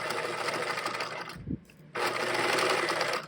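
A home sewing machine stitches a caddy bag body seam in loud, rapid whirring runs, pausing briefly in the middle for a soft clunk before resuming at full speed, with no talking.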